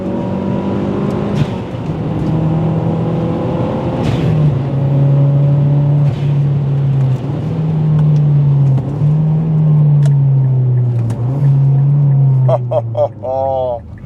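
A modified Mazda 6 MPS with a roughly two-litre turbocharged four-cylinder pulls hard through the gears, its drone climbing and dropping at each shift, loud and close throughout.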